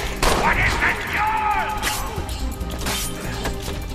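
Gunfire in Assassin's Creed 3, a ragged volley of several sharp shots and crashes spread unevenly over a few seconds, loud against game music and background noise, with no one speaking.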